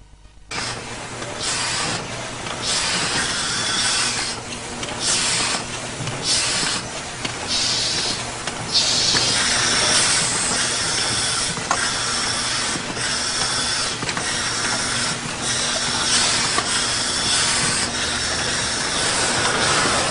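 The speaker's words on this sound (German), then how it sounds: "Was macht diese Maschine, was man auch nicht sieht? Bier in die leeren Dosen füllen." A 1970s factory machine fills empty cans with beer, giving off a steady, loud hissing spray. Rhythmic pulses and a faint mechanical hum run underneath it throughout.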